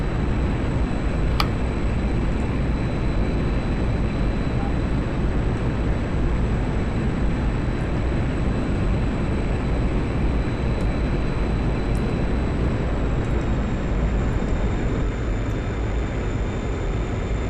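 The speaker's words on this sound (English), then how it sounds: "Oh look, a Tomcat taking off without its afterburners." An F-14 Tomcat jet in a flight game takes off without afterburners, a steady, loud roaring engine rush that holds constant for the whole stretch with no voices over it.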